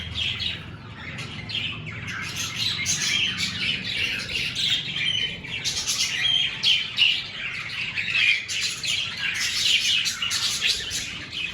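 Budgie parakeets chirping and twittering steadily in an aviary, a dense overlapping chorus of bright, close calls with no voices.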